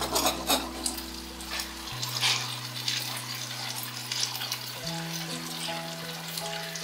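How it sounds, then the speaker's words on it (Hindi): Water poured into a pan of fish curry with boneless fish, a steady watery pour and bubbling over a cooking pan, with no talk during it. "अब हम इतना पानी डाल देंगे जितनी हमें ग्रेवी चाहिए"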